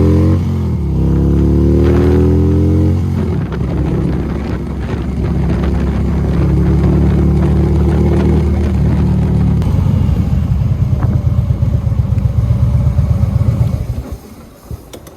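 A previously wrecked Harley-Davidson CVO motorcycle, bought from a salvage auction, accelerates with rising engine pitch through a gear change, then rumbles on under heavy wind buffeting before fading out near the end.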